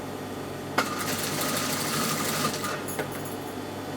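Sewing machine hemming fabric with a hem foot, a close steady mechanical whir that starts abruptly and runs continuously under faint room noise.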